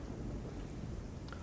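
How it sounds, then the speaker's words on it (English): Rainy ambience in the Garry's Mod map GM_Construct_Rainy: steady dense rainfall with a low rumbling thunder bed, constant and enveloping throughout, no speech. "I just love the rain and soundscapes used for this map"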